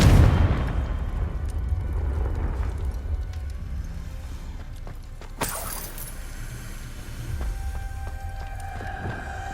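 A Confringo spell explodes in the video game Hogwarts Legacy with a loud, booming blast that fades into a rumbling tail, followed by a second sharp burst and lingering rumble.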